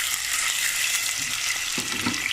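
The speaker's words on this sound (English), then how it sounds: "So let this cook for a while until the potatoes become a little brown on the sides." Potatoes with their peel on fry in a pan with a steady, close, loud sizzle, joined by a few soft stirring scrapes near the end.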